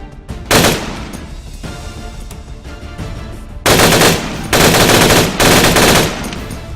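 Sustained automatic weapon fire in the Ground Branch tactical shooter, loud close bursts of rapid gunshots starting and stopping in several long strings.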